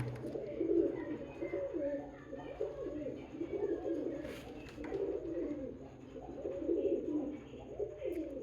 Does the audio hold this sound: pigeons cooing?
yes